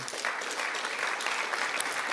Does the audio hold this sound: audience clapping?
yes